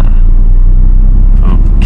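A car pulling away as the clutch is released, a loud, steady low engine rumble recorded close up from inside, with a voice talking over it.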